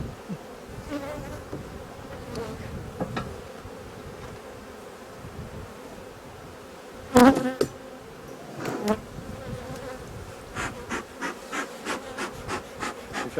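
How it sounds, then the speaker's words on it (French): Honey bees buzz steadily around an open hive during a summer honey harvest, a soft continuous drone with sharper passes as individual bees fly close, plus occasional handling knocks. "On peut voir, il y a pas mal d'abeilles quand même."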